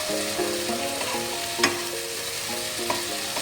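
Taro sizzling in a pan while a spoon stirs it, with scraping clicks and a steady frying hiss, close and moderately loud, no talking.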